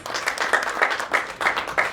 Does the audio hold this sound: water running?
no